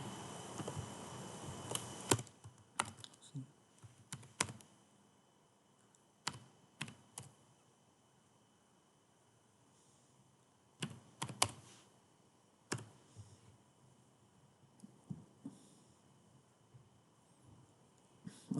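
Bursts of typing on a computer keyboard while filling in an Excel spreadsheet, quick clusters of close, crisp key clicks separated by quiet pauses, fairly faint, with no talk.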